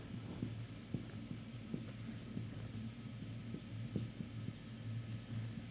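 Marker or chalk scratches out an equation on a board during a lecture: intermittent short strokes and taps over a low steady room hum, with no talking.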